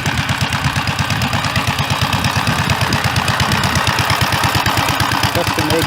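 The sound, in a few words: Gravely tractor engine popping through custom exhaust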